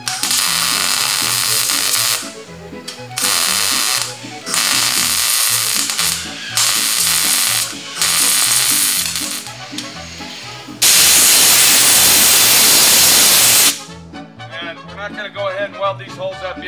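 Short bursts of buzzing, crackling welding on a steel body panel of a 1969 Volkswagen Karmann Ghia repeat with brief gaps over a low machine hum, followed by a long loud hiss and then quieter mechanical noise.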